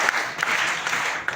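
An audience at an Arya Samaj gathering claps together in unison to welcome runners, a few sharp, fairly loud group claps spread over a short moment.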